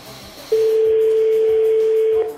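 A French telephone ringback tone sounds while calling a number, a single sustained electronic tone starting after a short pause and holding for nearly two seconds over faint background music.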